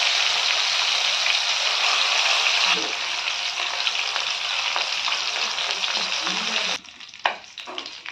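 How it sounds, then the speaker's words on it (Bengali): Tilapia fish fries in mustard oil in a hot wok, a loud, steady close sizzle that eases slightly midway, then drops off sharply near the end, followed by a few clatters. "এবার আমি মাছ ভেজে নেব"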